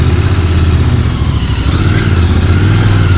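A Royal Enfield GT 650 motorcycle engine runs in first gear, a loud, close, steady low rumble with a slight rise in revs partway through.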